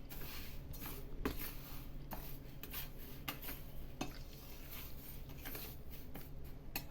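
Roasted seeds, flaxseed among them, and spices being stirred together in a pan, giving a soft continuous rustle broken by light scraping clinks of the spoon against the pan.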